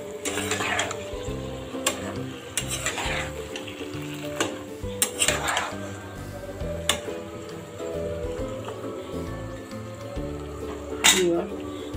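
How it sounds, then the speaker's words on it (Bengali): Fish and vegetable curry with drumstick, eggplant and potato being stirred in a pan, soft scraping and clinks of the spoon against metal, then a lid set down with a sharp clatter near the end, with a voice talking over it. "একটু নাড়া টাড়া দিয়ে ঢেকে দিন"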